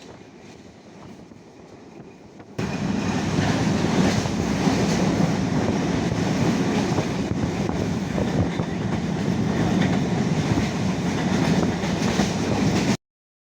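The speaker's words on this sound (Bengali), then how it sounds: "আমাদের ট্রেন পাস করছে শরৎনগর রেলওয়ে স্টেশন" Dhumketu Express passenger train running past Sharatnagar railway station: a loud, steady roar of wheels and rattling carriages that starts abruptly after a quieter opening and continues without talk.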